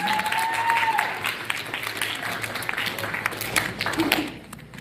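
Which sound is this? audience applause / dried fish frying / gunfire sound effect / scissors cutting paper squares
audience applause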